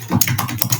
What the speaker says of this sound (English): Now we type hello.